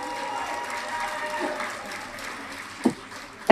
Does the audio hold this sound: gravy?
no